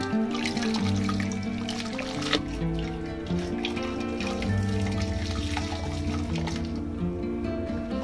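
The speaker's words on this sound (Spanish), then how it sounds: "Vierto en el inodoro una o dos cucharadas de percarbonato y agua caliente." Sodium percarbonate and hot water poured into a toilet bowl, a faint steady trickle and splash of liquid running into water, quiet and continuous without talk.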